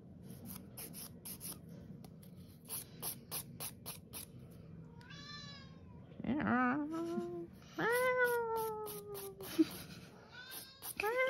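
A cat meows several times, drawn-out, wavering calls close by, following a stretch of faint scratching and tapping sounds.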